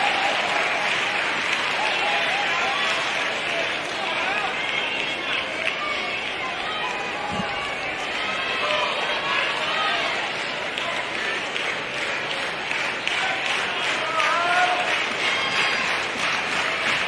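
A large crowd applauds and cheers at a college baseball game at LSU's Alex Box Stadium, a sustained wash of clapping and chatter with a commentator talking over it.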